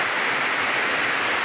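Steady, dense hiss of rain falling, constant and fairly loud with no pauses.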